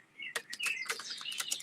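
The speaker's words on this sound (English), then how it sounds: "But little birds chirping." Small birds chirp in quick, bright bursts, several short tweets repeating near the microphone against a quiet background.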